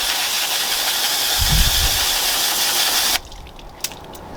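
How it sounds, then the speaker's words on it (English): Tyre-cleaning brush rinsed under a hissing spray of water, a loud steady rush for about three seconds that stops abruptly, leaving faint background noise and a small knock. "Again, rinse the brush out."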